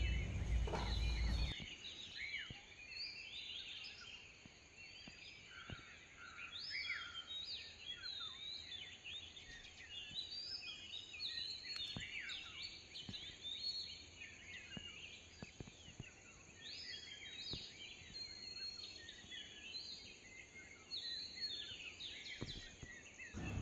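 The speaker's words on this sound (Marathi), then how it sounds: "चिमण्यांची किलबिलाट एकदम स्पष्टपणे ऐकायला येत आहे" Sparrows chirp at dawn in a Konkan village, a dense, continuous twittering at a modest distance, soft against a faint insect and cricket background.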